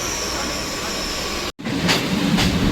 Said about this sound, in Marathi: समोरून एक मालगाडी येते